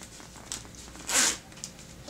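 A zipper on a handmade sewn fabric bag is pulled once in a quick, close rasping stroke, with a few faint handling taps before and after.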